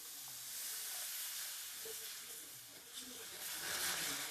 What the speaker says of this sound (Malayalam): നമുക്കതിന് കുറച്ച് വെള്ളം ഒഴിച്ച് തിളപ്പിക്കാം.